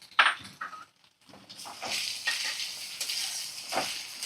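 Potato, onion and fish head fry in a pan over medium flame, with a steady sizzle and repeated scraping strokes of a spatula stirring, after a brief clatter at the start.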